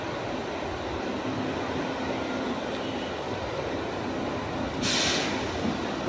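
A PMTO bus pulling out of a bus terminal, heard as a steady loud rumbling drone with a faint hiss, which rises briefly near the end.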